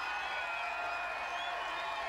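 Seven thousand home fans at a Canadian strongman contest roar and clap for a local athlete's world record attempt, a sustained, far-off crowd wash with scattered whistles and whoops.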